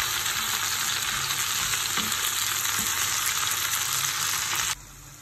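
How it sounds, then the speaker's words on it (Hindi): Okra (bhindi) frying in a pan in a Pakistani home kitchen for bhindi gosht, a loud, dense, continuous sizzle with a few scraping stirs, cutting off abruptly just before the end. "अब यहाँ पे भिंडी फ्राई कर रही हूँ"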